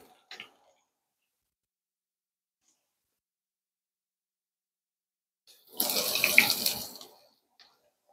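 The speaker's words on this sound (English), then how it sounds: "Just going to quickly rinse my hands and I'll be right back." A kitchen faucet runs briefly as hands are rinsed under it, a short splashing gush of water lasting about a second, preceded by a faint clatter and otherwise near silence.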